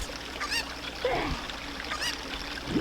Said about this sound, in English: Don't run away! I still need you, chicken.